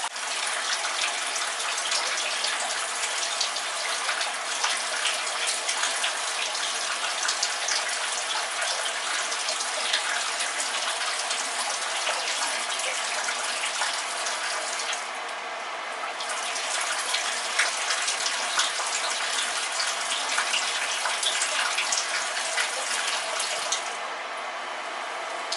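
Shower water runs steadily onto a rescued bird, a loud, continuous hissing spray that barely changes for the whole stretch, with no talk over it.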